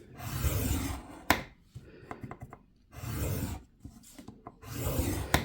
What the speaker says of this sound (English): I'm going to score at 1/2 inch all the way down lengthways, the long part, and then at 4 inches.